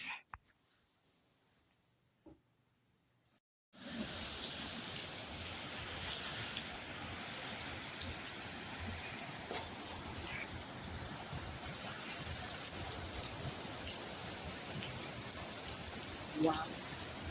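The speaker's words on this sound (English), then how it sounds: "Let's enjoy the rain." Heavy rain pours down in a dense, steady hiss that starts abruptly after a few seconds of near quiet with faint sounds, then holds loud and constant to the end.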